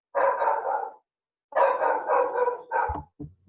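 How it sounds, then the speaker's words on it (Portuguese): A dog barking close by in a quiet room, two long rough bouts of barking followed by a shorter bark and a low whimper. "Com a participação especial do meu cachorro"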